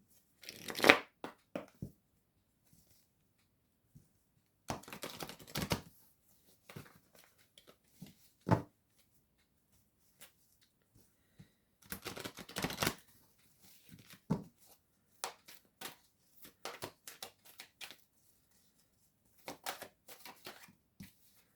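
Oracle cards being shuffled in quick papery bursts, riffles and slides separated by quiet gaps, close and soft.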